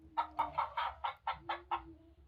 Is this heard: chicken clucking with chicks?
yes